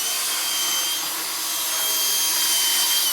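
Power tool countersinking holes during an Athletica Sport Systems 6A retrofit installation, a steady close whirring grind that runs without pause and with no talk over it.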